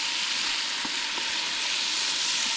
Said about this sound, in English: I'm going to stir this just a little bit.